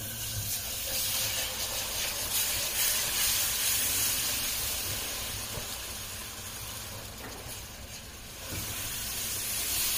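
Milk poured into a hot flour roux in a cast iron pan hisses and sizzles in a steady, close, bubbling wash of steam that continues for the whole stretch.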